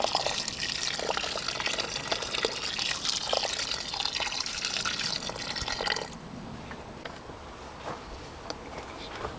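Water pours steadily from a watering can or hose onto a freshly planted horseradish plant, a continuous close splashing and trickling that eases slightly partway through, with no voices.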